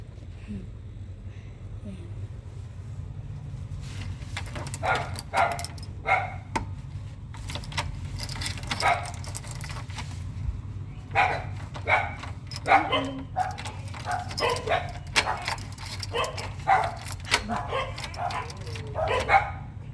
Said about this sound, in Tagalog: Yan o, daming aso.